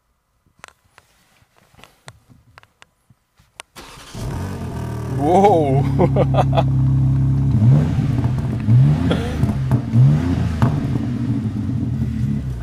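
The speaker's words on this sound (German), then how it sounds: "Ihr wollt das Auto mal hören" After a few quiet clicks, a BMW M3 engine starts with a roar, then revs sharply several times before settling into a deep, loud idle rumble.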